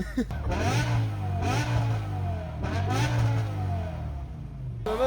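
Engine of a BMW performance car, M5 V10, M3 GTS or M5 F90, revving loudly and continuously at close range with pitch swells, while people talk over it.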